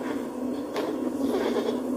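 Goats bleat in the video game Blanc, a brief nasal cry set against a steady low game hum, close and moderately loud, with one short bright burst partway through.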